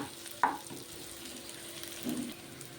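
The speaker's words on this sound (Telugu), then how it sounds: "ఉల్లిగడ్డ చూడండి ఎర్రగా బాగా వేగింది" Onions sizzling in a pan while they fry for a boiled egg dish, a quiet steady frying hiss with a couple of soft stirring clinks.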